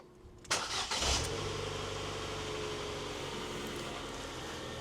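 A Ford Fiesta engine is started with the key: a short starter whirr, then the engine catches and settles into a steady, smooth idle close by, with no talk over it.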